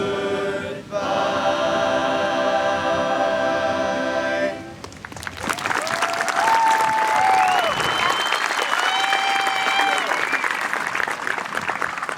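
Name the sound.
audience applause for the high school choir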